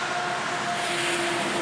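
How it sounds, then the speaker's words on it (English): Steady road traffic noise from a main road, a continuous broadband rush with faint tonal hum, constant and fairly loud throughout with no talking. "Pardon the road noise there,"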